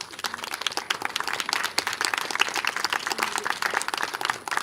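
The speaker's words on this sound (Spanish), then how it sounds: "Démosles un aplauso, por favor." An audience claps at the close of a panel session, dense and steady applause from many hands that lasts the whole stretch without fading.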